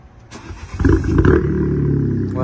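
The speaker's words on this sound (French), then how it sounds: "Tu peux la démarrer juste que j'entende un peu le son" A car engine cranks briefly and catches, then settles into a loud, steady running drone close by, with a slight rising whine near the end.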